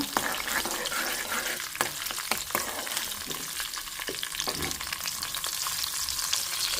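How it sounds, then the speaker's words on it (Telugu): Green chilies fry in hot oil in a home kitchen, a steady crackling sizzle with occasional sharper pops and stirring clicks, close and unbroken, with no talk. "తుంచి పెట్టుకున్న పచ్చిమిర్చి ఇది కొంచెం వేగిన తర్వాత"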